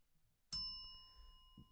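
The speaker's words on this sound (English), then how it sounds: "you're gonna hear a bell sound, which is what? Hit the bell." A single bell struck once in a tavern, a bright close ding with sustained ringing overtones that slowly fade.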